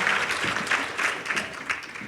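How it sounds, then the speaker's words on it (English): Audience applause at a women-in-business breakfast event, a steady wash of clapping from many hands that swells in small bursts and holds for the full stretch, with no talking over it. "And a round of applause to Monique as well."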